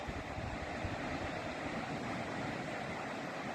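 Floodwater of the Gamka river rushes past, a steady broadband roar with faint wind buffeting, distant and continuous.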